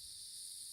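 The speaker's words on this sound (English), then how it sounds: "Listen to those crickets?" Crickets in Vintage Story give a continuous high, shimmering chirr that holds steady and fairly faint through a brief moment, with no other sounds.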